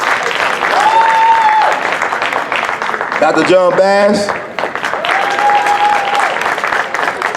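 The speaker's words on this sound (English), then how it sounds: "give another round of applause for Sister Earlise Taylor" A crowd applauds warmly at the 2019 Jimmie Lunceford Jamboree jazz festival kickoff at Manassas High School, with sustained clapping, a couple of whistles and a brief spoken announcement in the middle.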